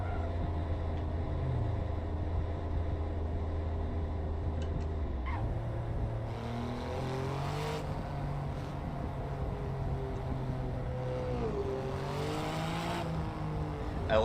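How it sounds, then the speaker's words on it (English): Car engine in a racing video game, a steady droning idle that rises into revving climbs with shifting pitch, with a few soft, dull backfire thumps rather than sharp pops. "I love that the backfire noise on it is like an ass slap, rather than a pop and a bang like a normal engine does"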